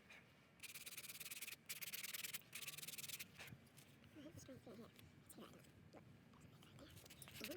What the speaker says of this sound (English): I'm using this finer sandpaper to do that